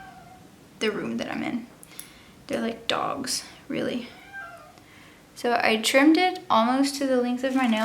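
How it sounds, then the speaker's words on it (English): A cat meows loudly and insistently from behind a closed door after being locked out of a room, several calls breaking in between stretches of someone talking close by. "that's my cat. They're very mad that I locked them out of the room that I'm in."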